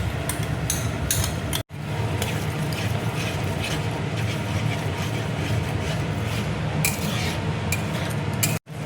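Spice paste mixed with sugar and whipped yogurt is stirred and sautéed in a pan for a pointed gourd dish, with a steady close clatter of utensil scraping against metal and a continuous sizzle underneath.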